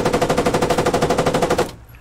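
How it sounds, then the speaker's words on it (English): Automatic gunfire in a video game rattles in a fast, even burst of about twenty rounds, loud and close, stopping abruptly near the end. "I'm getting, like, shot at."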